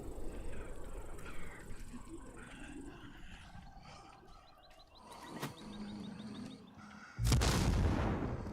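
A grenade explodes in the video game Dying Light, a sudden loud burst near the end after quieter game sounds and scattered thuds, its rumble lingering to the close.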